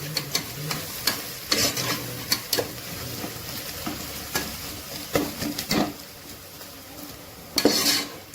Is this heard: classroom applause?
no